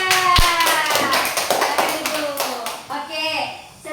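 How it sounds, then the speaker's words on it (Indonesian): Third-grade schoolchildren clap their hands in a classroom, a loud burst of quick, overlapping claps that fades near the end with young voices mixed in. "tepuk tangan untuk kelas 3."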